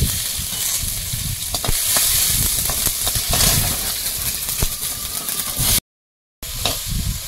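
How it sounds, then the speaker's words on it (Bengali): Dried red chillies, bay leaves and black mustard seeds sizzle loudly in hot oil, a steady close hiss with crackles and pops throughout, broken by a brief silence near the end. "এখন তেলের মধ্যে শুকনো লঙ্কা আর তেজপাতা দেবো আর একটু কালো সরষে"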